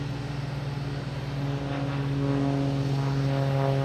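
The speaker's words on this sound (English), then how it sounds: "Cape Air making all this noise." A Cape Air propeller plane at Boston Logan Airport drones steadily with a strong, even engine hum and propeller buzz that grows slightly louder, heard close by with no voices.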